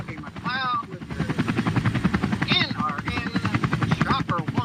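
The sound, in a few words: helicopter flying overhead, radio traffic report chopper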